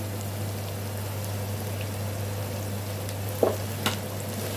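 Biryani masala with fresh coriander leaves sautés in a pan, a steady low sizzle with a constant hum beneath and a couple of brief stirring clinks near the end, no voices.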